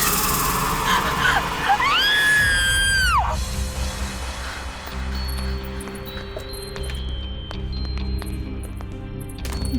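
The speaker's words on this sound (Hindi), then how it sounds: "फिर ये चीख।" A loud, piercing scream in a Hindi horror drama rises sharply, holds for about a second and a half, then cuts off, leaving a dark, droning ambience with faint metallic clinks.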